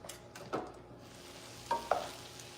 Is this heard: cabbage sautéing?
yes